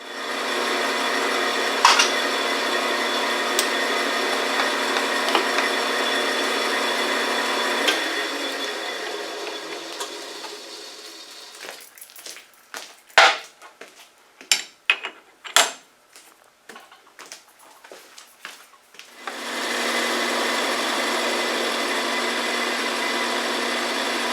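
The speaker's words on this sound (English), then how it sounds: "Got to drill the hole through here and attach the handle." A steady whirring drill runs through a chuck key, then stops for a stretch of metallic clinks and taps, before the drill whirs again near and loud.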